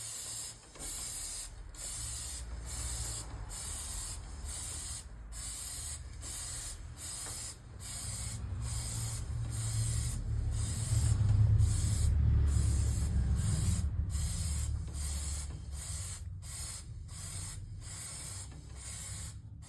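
An aerosol spray can is sprayed along the wheels of a quad while they are turned, giving a long, steady hiss lasting the whole stretch and a faint rumble partway through, with no voices.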